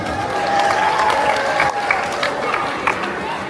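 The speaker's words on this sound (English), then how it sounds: "let's give her a round of applause" Audience clapping and cheering at a mall show of dogs and cats doing tricks, a dense spread of hands in a crowd with chatter and a voice over it.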